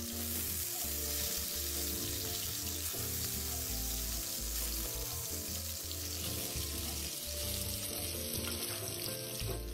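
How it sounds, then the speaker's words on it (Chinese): Fish cake fries in two tablespoons of hot cooking oil in a wok over medium heat, a loud, steady, close sizzle that runs unbroken throughout with no voices. "油热后，再加入鱼饼煸一煸香。"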